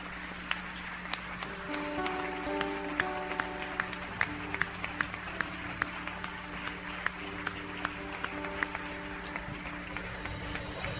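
Applause from a church congregation during a service, steady and moderately loud, layered over sustained organ or keyboard chords that carry through the whole stretch.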